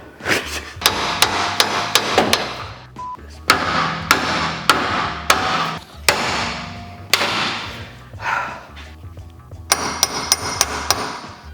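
Hammer blows ring out on metal in uneven bursts while working on a Squarebody truck's crossover steering, several sharp clanging strikes in quick runs separated by short pauses, close and loud.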